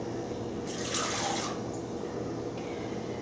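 Water poured into a mixing container while rice bread dough is prepared, a brief bright splashing stream lasting under a second over a steady low room hum, with no voices.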